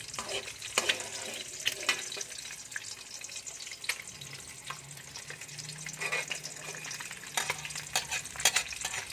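A sunny side up egg frying in oil in a pan, a continuous soft sizzle with scattered sharp crackles and occasional scraping clicks, close and moderate in level.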